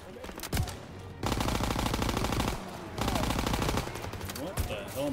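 Sustained machine-gun fire rattles in Call of Duty: WWII. Dense bursts come in two long, loud stretches separated by short lulls, with battlefield clatter in between.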